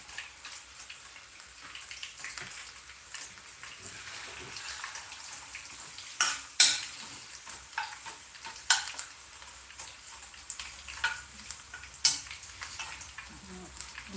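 Chicken frying in oil with a steady crackling sizzle throughout, punctuated by a few sharper pops and stirring clatters, heard close and alone without talk.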